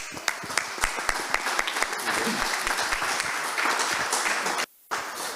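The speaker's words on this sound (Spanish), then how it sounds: "Más fuerte esas palmas para Cristo, queridos hermanos" A church congregation at a Peruvian conference claps for Christ, sharp rhythmic hand claps over a dense wash of crowd clapping, with a voice present and a brief dropout near the end.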